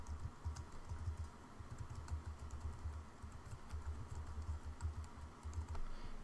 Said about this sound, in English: let's scroll down to our simple browser and then type in a website again